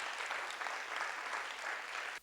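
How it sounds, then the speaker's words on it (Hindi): A church congregation at a prayer meeting in Chandigarh claps for the pastor, a dense, continuous burst of many hands applauding together that stays steady and ends abruptly. "खड़े होकर प्रभु के लिए और उनके दास के लिए एक जोरदार ताली"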